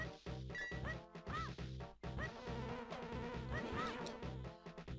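A bee buzzes in the video game Zelda: A Link to the Past, a continuous insect drone with wavering pitch over game sounds and chiptune music, steady and fairly loud throughout.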